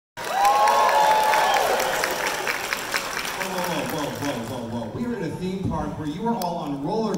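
A theme park crowd at an evening announcement show screams and cheers loudly from the start. The roar slowly thins into scattered shouts and chatter, with voices mixed in.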